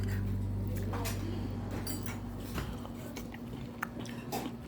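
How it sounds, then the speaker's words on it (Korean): Close chewing and biting of webfoot octopus dipped in curry at a Korean restaurant, soft crunchy mouth sounds and squishes against a steady low room hum, with brief voice traces. "쭈꾸미를 카레를 찍어서 한번 먹어볼게요"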